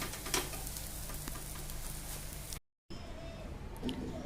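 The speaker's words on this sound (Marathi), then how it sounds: "पराठा आता आपण परतून घेऊया बघा छान खरपूस झालाय मस्त पराठा" An aloo paratha, a potato flatbread, fries in a pan with a steady close sizzle and occasional stirring taps, briefly cutting out before the frying hiss resumes more faintly.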